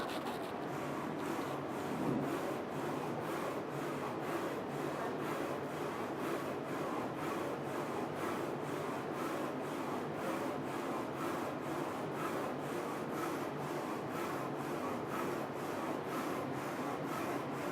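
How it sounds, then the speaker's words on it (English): A Focus Inc. Alpha-Jet UV flatbed printer printing white ink then color onto a bottle, giving a steady, quiet mechanical whir with a fast regular ticking pulse running throughout, unbroken and alone. "So now the machine start print."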